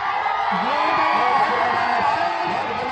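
A crowd at a kabaddi final match roars and whoops in a continuous loud wash of cheering, with voices calling out through the din.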